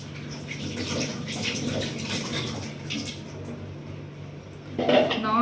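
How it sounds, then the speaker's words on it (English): Apples that have soaked in salt water are lifted out and rinsed again, a continuous close sloshing and splashing of water in a bowl, with faint clinks of dishes and a brief louder splash at the end. "So now I am bringing out the apples from this water and will wash it again so that the saltiness will be removed."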